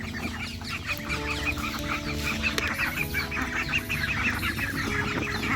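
Flock of young laying hens clucking busily and continuously at close range as grain is scattered for them, a steady chorus of overlapping calls with no talking.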